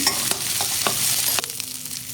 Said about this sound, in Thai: ผัดผัดทุกอย่างให้เข้ากันค่ะ